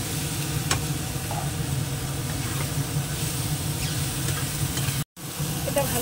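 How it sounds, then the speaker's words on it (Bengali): Spices with potato and tomato are sautéed in a pan, producing a steady, close sizzle with faint stirring scrapes throughout and a brief dropout near the end. "একটু কষিয়ে নিই, আলুটাও দিয়ে দেবো।"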